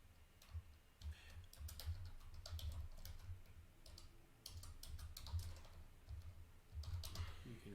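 Someone types a memo on a computer keyboard, with steady bursts of soft key clicks in uneven runs across the clip and some faint background voice.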